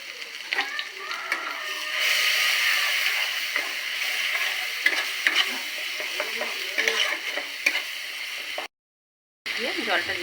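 A ground spice paste fries in hot oil and is stirred with a spoon, giving a steady, close sizzle and scraping with small clinks. The sound breaks off in near silence briefly before the end, and someone talks over it.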